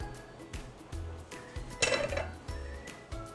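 A pan for risoles wrappers is handled on the stove as it heats, giving a short burst of metallic clinks and clatter near the middle, with low background hum before and after.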